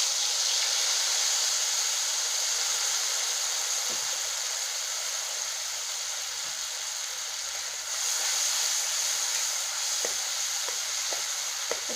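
Spice paste of Kashmiri chili, turmeric and cumin sizzling in oil over a low flame, a soft, even frying hiss with occasional faint scraping clicks as it is stirred.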